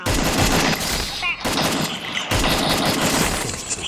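Gunfire in a shooting video game rattles loudly and almost without a break, dense overlapping bursts of rapid shots with a short lull partway through.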